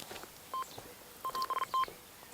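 Electronic bite alarm on a carp fishing rod beeping, one short tone followed by a quick irregular run of sharp, clear beeps at the bankside.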